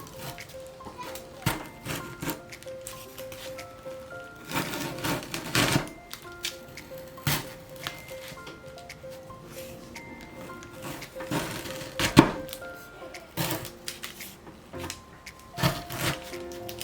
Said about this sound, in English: I'm going to cut into small pieces, each of them about 2 centimeters.